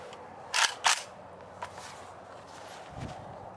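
An AK rifle's action cycled by hand with a WASR .223 magazine inserted: two sharp metallic clacks close together, then a fainter click and a soft thud, close up with no talking.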